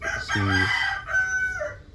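A rooster crows loudly nearby, one full drawn-out cock-a-doodle-doo with a rising and falling cry.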